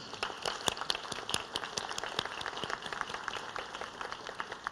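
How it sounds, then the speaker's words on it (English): A small awards-ceremony audience gives students a thin, scattered round of applause, with individual claps distinct and fairly distant in a large room. "Let's give our students another round of applause."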